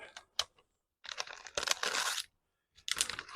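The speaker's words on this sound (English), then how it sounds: "I'm going to take off this blue tape" Blue tape peeled off a resin-wood hybrid cup mold in bursts: a short rip, then longer crackling, crinkling tears separated by pauses, close and fairly loud with no voices.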